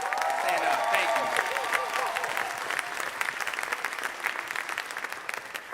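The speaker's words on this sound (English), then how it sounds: "Let's give them one more round of applause." A graduation audience at Temple University's Rites of Passage ceremony gives a sustained round of applause. Dense clapping fills the hall, with a few faint whistles and cheers near the start.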